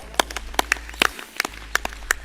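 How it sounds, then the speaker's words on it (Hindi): An audience at an outdoor yoga session led by Swami Ramdev claps hands in a series of sharp, separate claps at an uneven rhythm, some close and loud, over a low steady hum. "ताली बजाओ"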